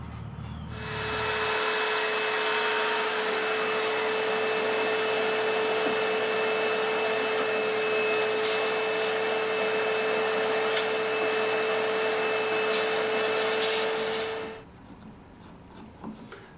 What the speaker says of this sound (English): I'm going to go ahead and use a 1/4 inch bit in my palm router and take away the rest of that material.